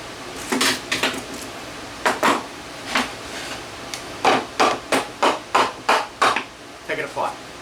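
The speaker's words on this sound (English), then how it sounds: "Now, take it apart. Loosen up the Allen screws all the way." Parts of a Festool DF 500 joiner are taken apart while Allen screws are loosened, producing a series of sharp, close metallic taps and clinks in quick succession, with someone talking between them.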